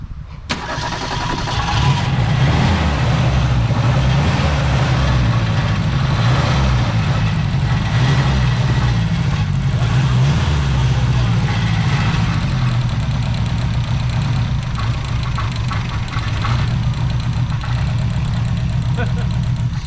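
A 1972 Ford Pinto four-cylinder with a carburetor fault idles roughly, its loud, close, uneven low rumble running steadily throughout, with voices talking over it.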